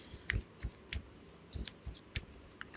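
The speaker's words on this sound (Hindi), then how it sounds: "हम दोबारा शफल कर लेते हैं भाई।" Tarot cards being shuffled by hand, giving a series of soft papery riffles and taps in an irregular rhythm, close and fairly quiet.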